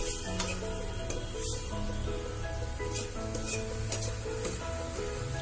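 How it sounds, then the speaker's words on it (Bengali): Cauliflower florets stir-fried with stinging catfish in a hot pan give a steady, close sizzle, with a spatula scraping and stirring throughout and no voices. "সেটার মধ্যে কপিগুলা কষাবো"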